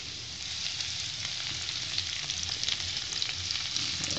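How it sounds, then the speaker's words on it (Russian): Onion frying in sunflower oil in a pan, a steady dense sizzle that stays even and close throughout with no voices. "Итак, обжариваем наш лучок."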